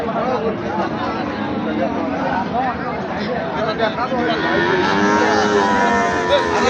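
A cow moos in low drawn-out calls amid a busy crowd of chattering voices at a cattle market, with the lowing most noticeable toward the end.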